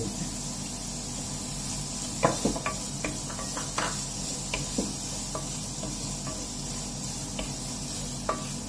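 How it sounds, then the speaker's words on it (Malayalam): Onions frying in salted oil in a pan while being sautéed until brown for chicken cutlets, a steady close sizzle with occasional scrapes and taps of a stirring spoon. "നന്നായിട്ട് നല്ല ബ്രൗൺ ആകുന്നവരെ നമുക്ക് നല്ല പോലെ വഴറ്റിയെടുക്കണം"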